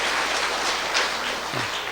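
A church congregation applauds during a sermon, a dense, steady wash of clapping that holds evenly for about two seconds with no voices over it.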